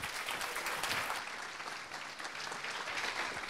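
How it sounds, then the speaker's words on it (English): Steady applause from an audience at a business conference, a dense wash of clapping that holds at an even, moderate level for a few seconds with no voices. "So give them a big round of applause."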